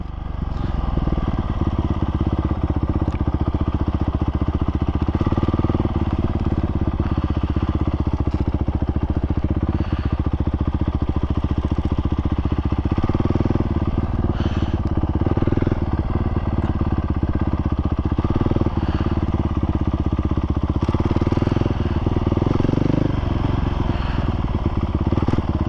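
A 450 motorcycle rolls slowly in first gear after a dyno tune, its engine a loud, steady, slightly uneven drone heard close up for the whole stretch with no talking over it.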